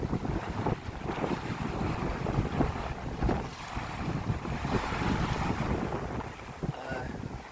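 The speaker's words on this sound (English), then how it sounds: "Wind builds every afternoon from the northwest" A northwest afternoon wind blows while sailing a 14'6" gaff-rigged Post Boat in Greece: loud, gusty buffeting rushes past the microphone over a constant wash of water, with no voices.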